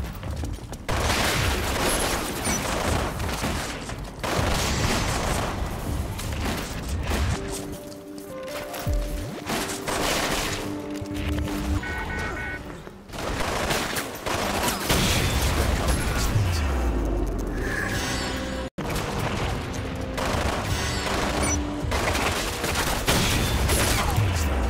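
Rapid bursts of TN-12 R.P.D. SP fire in the shooter game Umbrella Corps, loud sustained volleys with short pauses, a voice talking briefly amid the shots.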